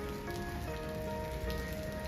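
Steady rain pattering on a surface in Santiago de Compostela near the cathedral, a soft continuous hiss with a faint tonal hum underneath, no voices.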